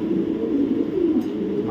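A female pigeon of a very light colour coos in a steady, low, rolling murmur close by, continuous through the moment with no voices.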